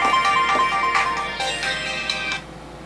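A phone ringtone plays an incoming call, a bright repeating electronic melody ringing clearly for about two and a half seconds before stopping.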